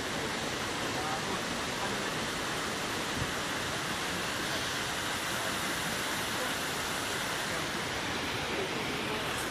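A river flows beside a forest campsite at Nuang, a constant close rushing wash of water that fills the whole stretch with no clear breaks.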